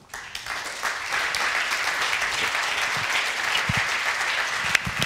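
An audience at a panel discussion applauds as panelists are called to the front, with a sustained, even wash of clapping from a sizable crowd throughout.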